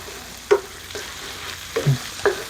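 Spices frying in bacon fat in a pan, a faint background sizzle broken by a few short stirring scrapes and clinks.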